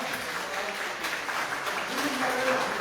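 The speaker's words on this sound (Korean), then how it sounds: "다시 한번 우리 이동철 대표님께 큰 박수 부탁드리겠습니다" An audience at a political party general meeting and invited lecture in Jeju applauds the speaker, sustained clapping from a room of people with a voice faintly present beneath it.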